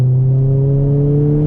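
Steady engine drone from a Ford Fiesta ST180 with a Stage 2 tune, held at a constant note while in gear, even and fairly loud with no talk over it.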